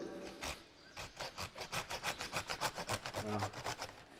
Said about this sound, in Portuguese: Esse é um serrote cansado, pessoal.